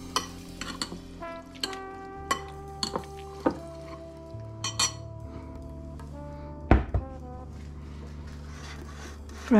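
A frying pan is set down on a kitchen stove, giving sharp metallic clanks and clinks spaced irregularly. Music plays under the clatter, and a louder clunk sounds near the end.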